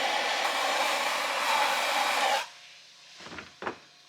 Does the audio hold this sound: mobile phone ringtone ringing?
no